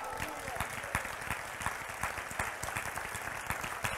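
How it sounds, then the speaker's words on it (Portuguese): A church congregation applauding during a Portuguese-language service, with steady clapping from a crowd in a reverberant room and voices mixed in underneath, held at a moderate, even level. "Se concorda, aplauda ao Senhor."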